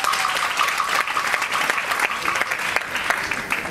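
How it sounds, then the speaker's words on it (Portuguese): Loud, steady applause from a crowd, dense clapping filling the whole stretch without letting up. "Aplausos!"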